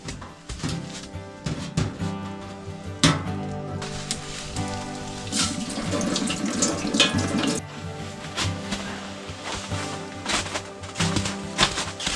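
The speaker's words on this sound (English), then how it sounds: "we're gonna put some water in it and heat up some water for some tea before bed" Water pours steadily into a pot to heat for tea at a winter campsite, a continuous splashing trickle lasting about twelve seconds, close and fairly quiet, with no talking.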